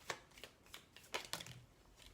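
Oracle cards are shuffled by hand during a card reading, giving soft, quiet riffling bursts in an irregular rhythm at close range.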